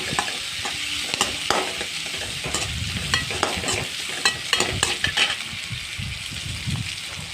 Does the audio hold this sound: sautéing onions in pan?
yes